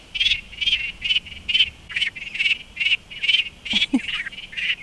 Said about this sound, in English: It's frogs.